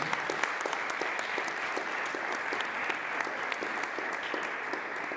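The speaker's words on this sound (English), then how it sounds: "Everybody give Chris a big round of applause." Steady, sustained audience applause at a university jazz ensemble and invitational honor band concert, dense even clapping throughout with no voices over it.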